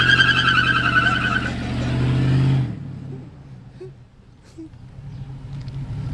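A 2004 Chevrolet Silverado 4.8 V8 with shorty headers, cutouts and full exhaust revs hard during a brake-held burnout, a loud roaring rise for about two seconds, then dropping off to a low rumble and faint noise.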